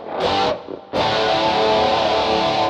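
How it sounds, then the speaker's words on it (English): Heavily processed electric guitar chords washed in a UAD model of the Lexicon 224 digital reverb, a loud bright burst, a brief dip, then a long sustained chord blooming into a dense tail. "on one track, I've got a Lexicon 224 model from UAD for that digital reverb"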